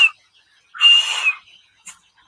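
A loud, piercing whistle made with the fingers, one short high blast followed by a longer sustained note, then a faint brief chirp, heard alone without talk.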